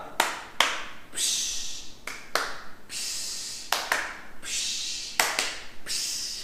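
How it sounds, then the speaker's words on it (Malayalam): A rocket clap from a teacher cheering pupils: a rhythmic series of sharp hand claps, each followed by a rising breathy whoosh, repeating about five times at close range with no talking. "എന്റെ വക റോക്കറ്റ് ക്ലാപ്പ്"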